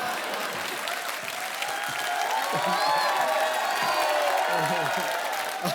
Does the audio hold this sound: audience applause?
yes